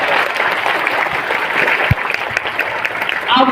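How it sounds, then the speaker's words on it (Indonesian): An audience at an Islamic religious talk claps in a dense, steady burst of applause, close and fairly loud, with a slight swell near the end. "Tepuk tangan dulu untuk ibu."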